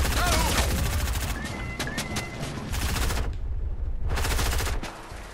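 Dense, loud gunfire from Fortnite rips along in rapid bursts with brief gaps between volleys.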